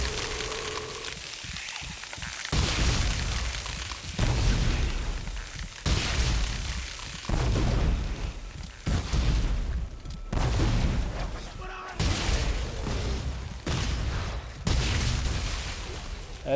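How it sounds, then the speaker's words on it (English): A grenade blast in the sci-fi horror game Dead Space 3 lands among repeated loud booming bursts, each explosion cracking sharply then rumbling off, several spread across the scene with constant game noise between. "That's a grenade."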